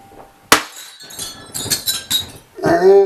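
A glass knocked over and breaking indoors: a sharp, loud crash followed by a scatter of clinking shards, then a ringing clink near the end.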